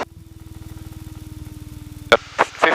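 Light aircraft piston engine throttled back to about 1,500 rpm while descending on base leg for runway 28, a steady low pulsing drone inside the cockpit, broken near the end by short bursts of radio or intercom noise.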